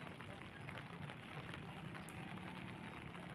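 Steady rain falling on a wet morning outside a church, a dense even hiss of drops on surfaces running throughout without a break.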